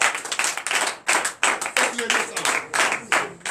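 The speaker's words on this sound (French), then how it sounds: "je vous demande d'applaudir très fort" Brisk clapping from a church congregation at a night prayer service, rapid and uneven, with a voice faintly mixed in underneath.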